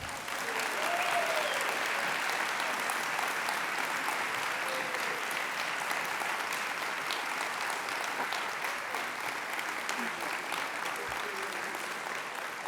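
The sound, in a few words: applause for donors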